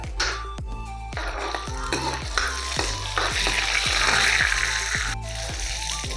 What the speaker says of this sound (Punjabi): ਤੇਲ ਗਰਮ ਹੋ ਗਿਆ ਇੱਕ ਚਮਚ ਪਾ ਲਾਂਗੇ ਸਾਬਤ ਜੀਰਾ